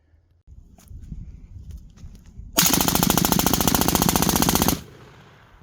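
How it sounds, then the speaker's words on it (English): Sons of Liberty EX02 rifle firing a fast burst of shots outdoors, a loud, dense rapid stream lasting about two seconds after a softer stretch of footsteps and rustling, then falling back to quiet ambience. "this is a really flat shooting rifle, which doesn't surprise me."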